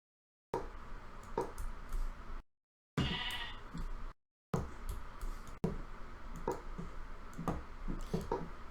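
Sheep bleating in Minecraft, several repeated game bleats spread across the stretch at moderate loudness, broken by short gaps of silence, with no talking.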